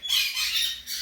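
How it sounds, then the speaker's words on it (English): A parrot at a parrot rescue society in Punta Gorda giving a loud, harsh, close squawk in two rasping bursts over about a second, with no talking. "there's a bird called Coraline"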